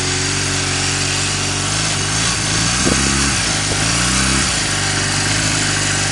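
A 2000 Honda Rebel 250 motorcycle idles steadily just after a cold start, its engine note rumbling evenly and close by, with brief rises in revs near the middle and no talking.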